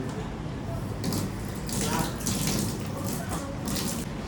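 Water runs from a shower in an open balcony jacuzzi at a luxury resort, a steady rushing stream that swells and gushes in bursts, with no speech over it.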